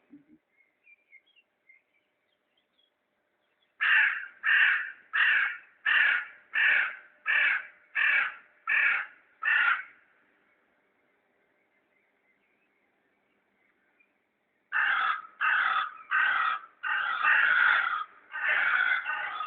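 Crows caw at dawn in two loud bursts of rapid, evenly spaced calls, about seven in the first run and a similar run later, separated by quiet with faint distant birdsong in between.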